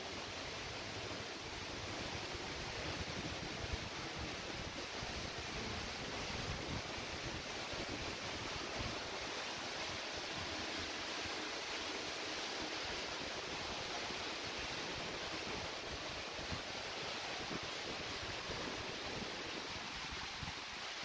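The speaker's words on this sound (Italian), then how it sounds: "Qua si sente già la forza dello spostamento d'aria della cascata." A steady, dense roar of the Misol-Ha waterfall in Chiapas, Mexico fills the whole clip, constant and unbroken, with no voices.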